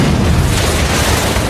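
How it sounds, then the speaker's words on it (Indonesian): A heavy explosion rips through a toilet drain pipe inside a police station in the film Fast Five, a loud, sustained deep boom and rumble filling the whole moment without letup. "kemudian meledakkan pipa pembuangan WC"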